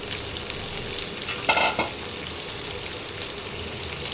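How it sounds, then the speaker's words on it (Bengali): Tomatoes and slit green chillies fry in a pan alongside pabda fish, giving a steady close sizzle with a brief burst of stirring clatter midway. "এটা একটু ভাজা ভাজা করে নিয়ে তারপরে মশলাটা দেব।"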